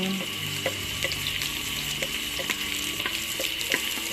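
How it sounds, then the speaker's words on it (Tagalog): Ginger and red onion fry in a pan for squid adobo with a steady close sizzle, while regular soft clinks and scrapes from stirring recur about twice a second and no one speaks. "ngayon ay parang nagbabrown na po ang luya ay isunod natin ang sibuyas na pula"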